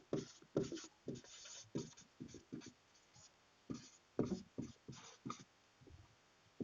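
Marker writing on a board during a lesson on PLC normally open and normally closed contacts, heard as a series of quick squeaky strokes in irregular bursts, close and clear, with brief pauses between letters.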